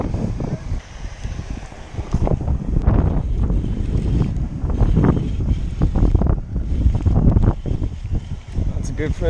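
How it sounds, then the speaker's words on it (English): Strong wind buffets the microphone on the exposed side of a bass-fishing pond with a splashing fountain nearby, a loud continuous low roar with gusty surges throughout, while a person talks over it. "We're on the windy side of the pond"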